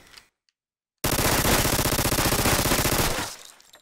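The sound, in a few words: TMP submachine gun firing in a video game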